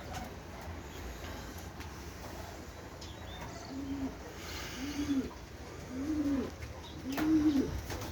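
Pet pigeons on a home balcony in the evening give a series of soft, low coos that grow slightly louder toward the end, over a steady outdoor background hum.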